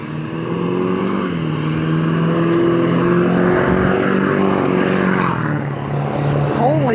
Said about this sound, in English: Can you have a louder truck?